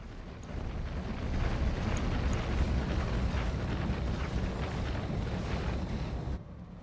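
Weapons fire and explosions in the BattleTech video game rumble as a dense, continuous low roar, swelling and holding steady before cutting off abruptly near the end.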